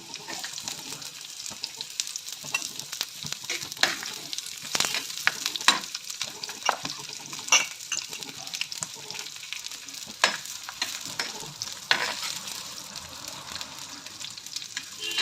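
Chopped onions sizzle and crackle in a hot pan after garlic, with a steady frying hiss broken by louder spatters and stirring scrapes throughout.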